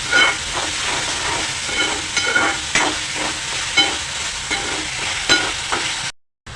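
Dried shrimp with onion and tomato stir-fried in a pan over high heat, giving a continuous loud sizzle with repeated scraping stirs, then cutting out abruptly near the end.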